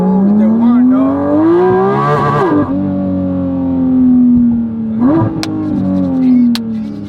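A Porsche Cayman GT4 RS engine revs loud and close, climbing through the gears with rising pitch, dropping on each shift and pulling hard again.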